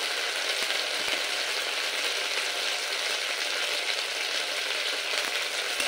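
Potol (pointed gourd) and potato curry with masala frying in a pan, a steady, dense sizzle that stays loud and even throughout with no voices.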